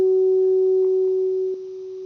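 A steady pure sine-wave test tone passes through a filter, holding one unwavering pitch with a faint overtone. It stays loud and alone for about two seconds, with a slight drop in level near the end.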